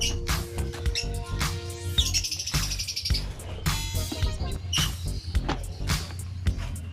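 Small cage birds chirp and tweet in a breeding cage, with many quick, overlapping high calls close by over a steady low hum and rustling.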